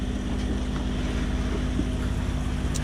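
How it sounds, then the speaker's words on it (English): Wind buffeting a sailboat on a beam reach off Molokai, a constant low rumble and rush against the microphone with a faint steady hum beneath. "Right now we have a slight wind on a beam reach."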